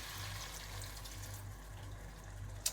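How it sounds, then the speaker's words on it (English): Liquid pours steadily into a pan on an induction stove, a soft continuous trickle with low hum underneath, ending in a small sharp clink. "I'm gonna pour it in."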